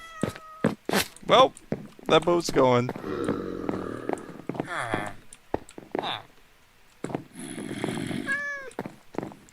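A cat meowing in a boat in Minecraft, several short meows and a drawn-out cry scattered through the clip, close and clear, with someone talking in between.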